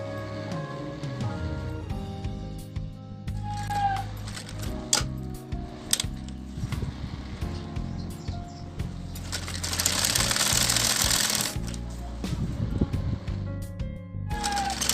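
A sewing machine stitching a kurti runs in short bursts between pauses, with a rapid mechanical whir and clatter, one longer steady run, and scattered clicks and handling noises close by.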